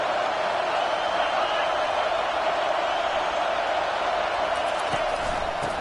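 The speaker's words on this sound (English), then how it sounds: "Now the crowd responding in the red zone," Stadium crowd noise at a college football game between UCLA and Minnesota, a steady loud roar from fans in the red zone backing the defense, sustained throughout with no let-up.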